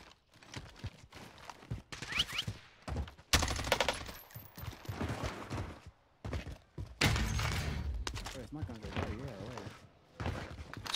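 Rapid gunfire in the Warzone video game, bursts of shots and fusillades in a 2v2 wager match, loud and close, with people talking over the shooting.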